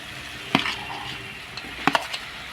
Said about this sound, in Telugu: ఇప్పుడైతే ఆనియన్స్ టమాటోస్ మిక్స్ చేసుకుంటున్నాను.